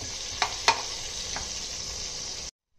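Chopped onions and curry leaves frying in oil in a pressure cooker, a steady bright sizzle with a couple of sharp metallic clinks early on, close, ending abruptly in silence.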